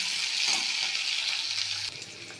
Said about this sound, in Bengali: দিয়ে দেখো, এটা একটু ভাজা ভাজা হলে তারপরে আমি ক্যাপসিকাম, পেঁয়াজ, কাঁচা লঙ্কা সবগুলো দিয়ে দেব।